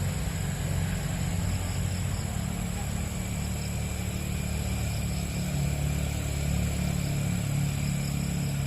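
Motorcycle engine running in a continuous low, rumbling drone that stays steady and fairly loud throughout.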